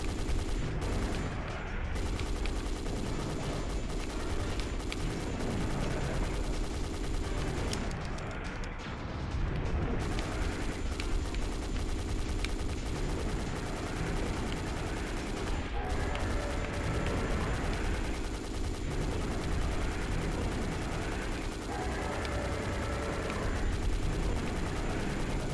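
Sustained, dense video game gunfire keeps firing almost without a break for the whole stretch, loud and steady, with heavier booms mixed into the rapid shots.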